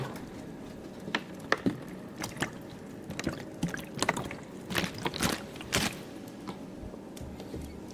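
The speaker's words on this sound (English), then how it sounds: "And now we're going to do some water sounds" ASMR water sounds from a live chill session: a string of separate close-up splashes, drips and pours, scattered irregularly with quiet gaps between them, soft and intimate with no talking.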